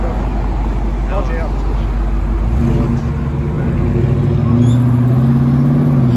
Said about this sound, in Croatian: najjače auto prolaze ovdje